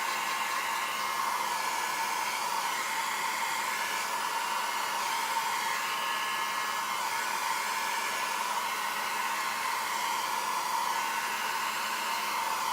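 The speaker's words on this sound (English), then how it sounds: "I'm going to use my travel blow dryer to move around the ink" A small travel blow dryer runs continuously with a steady, close whine and rush of air as it pushes alcohol ink across a canvas, unbroken for the whole stretch.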